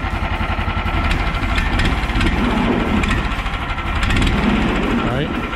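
A Snowdog Long Track B13 MER tracked snow vehicle's engine runs steadily nearby with a rough, throbbing mechanical drone, while voices talk over it.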